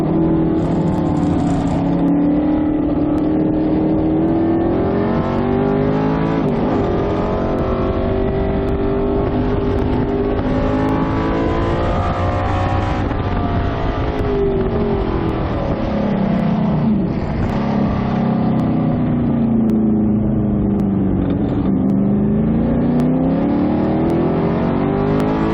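Race cars, among them a white Corvette, roar past on the circuit at COTA in a Group 6 helmet race, with loud continuous engine drone, rising and falling revs as they accelerate and shift, close and sustained.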